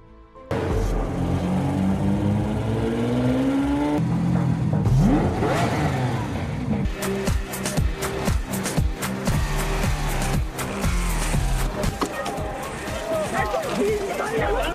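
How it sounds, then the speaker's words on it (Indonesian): A sports car pulls up, its engine rising and revving amid busy background noise, with talk and crowd sounds mixed through the scene. "tak berselang lama, datanglah mobil sport yang ternyata itu adalah Vincenzo dan Chae-y"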